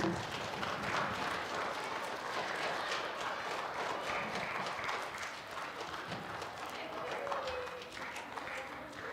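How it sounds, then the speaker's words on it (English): Audience at a school spelling bee applauds, steady scattered clapping that fades slightly midway, mixed with crowd movement and voices talking underneath. "let's give them all a round of applause"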